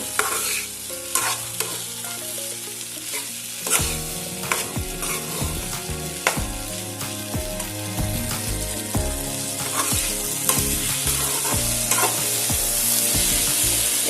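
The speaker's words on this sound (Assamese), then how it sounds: "এতিয়া এইখিনি অলপ ভাজি ল'ব লাগিব।" Ingredients for paneer chana dal tadka fry in a hot pan with a steady sizzle, punctuated by frequent clattering strokes of a spoon stirring against the pan.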